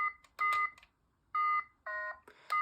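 A handheld electronic memory maze game beeps out a series of short, loud tonal bleeps in bursts with brief gaps between them, heard up close with no talking.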